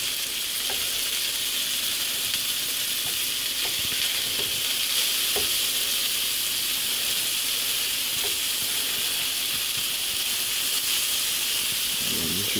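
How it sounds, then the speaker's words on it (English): Meatballs fry in a pan with a loud, steady hiss and sizzle, broken by faint scrapes and taps as they are turned. "we're going to make sure we cook the meatballs done before we move on to the next step"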